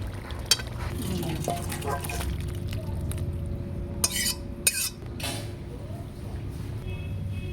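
Boiled mixed vegetables with katoa stalks are stirred in a pan, with a spoon clinking and scraping against the metal in scattered knocks over a low simmering hiss while a voice talks.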